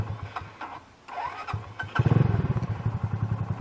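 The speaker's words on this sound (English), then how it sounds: "I'm going to actually have to hold in my clutch to start it." A motorcycle engine cranks with the clutch lever held in, catches about halfway through and settles into a loud, steady throbbing idle close by.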